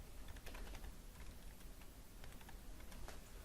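Typing on a computer keyboard during a lecture on modelling software, a steady run of quick, light key clicks at close range, faint overall, with no speech.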